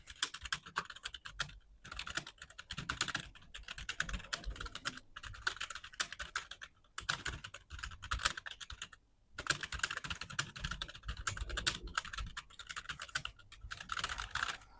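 Fast, continuous keystrokes on a computer keyboard while typing out a typing-practice lesson, close and crisp in bursts separated by short pauses, with no one talking.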